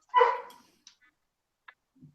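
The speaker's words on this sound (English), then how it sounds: "is that your dog barking?" One short dog bark sounds from a distance indoors, followed by a few faint, scattered small sounds in an otherwise quiet room.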